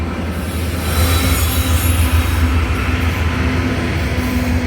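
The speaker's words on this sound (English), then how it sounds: "coal train." A DKPX coal train rolls past on the rails, a steady loud rumble of railcars with wheel squeal and rattling carried throughout, close and continuous.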